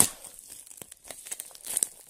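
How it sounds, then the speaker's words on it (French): Someone opens a parcel package by hand without scissors, with close, sharp crinkling and tearing of packaging in short bursts, no talking. "ouvrir avec vous ce colis si j'y arrive sans les ciseaux"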